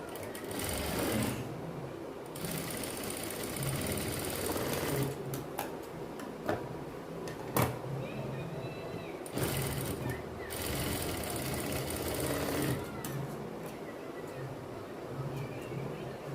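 A sewing machine stitches pieces of a child's silk skirt together in steady whirring bursts, stopping and restarting several times, with faint handling sounds and clicks between runs.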